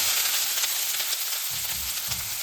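Chopped onions, with crushed garlic, cloves and half a cinnamon stick, sizzle and fry steadily in a pan for egg gravy, with brief bursts of stirring.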